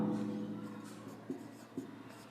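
A pen writing country names on a world map, a soft continuous scratching with a couple of brief tapping strokes, close and quiet.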